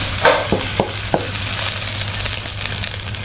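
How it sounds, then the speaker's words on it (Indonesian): A spatula stirs and scrapes food around a hot frying pan in an Indonesian home kitchen, giving a few distinct clacks against the pan over a steady sizzle that continues throughout, with no talking. "kita aduk kembali hingga benar-benar tercampur merata"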